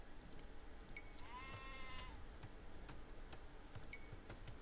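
Sheep bleating in Age of Empires during a match on the Four Lakes map, one short wavering bleat standing out over a busy bed of game ticks and clicks, with a couple of brief chirps around it.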